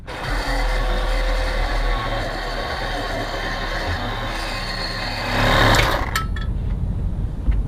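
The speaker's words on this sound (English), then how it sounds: "I'm using a Diablo Demon metal cutting blade" A reciprocating saw fitted with a Diablo Demon metal-cutting blade cuts metal on the underside of a Lexus LX 470 / Toyota Land Cruiser 100 Series, giving a loud, steady buzzing rasp that surges briefly before stopping abruptly near the end.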